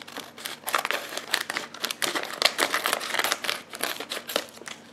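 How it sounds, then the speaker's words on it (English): A plastic vacuum sealer bag is cut just below its seal line with scissors, making close, busy crinkling and snipping that crackles on without pause and with no talk. "So I'm going to cut under the seal line."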